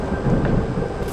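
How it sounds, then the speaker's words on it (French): Stormy weather in a Backrooms video game, heard as a steady, loud low rumble of thunder with a rain-like wash throughout, and no voices over it. "C'est orageux."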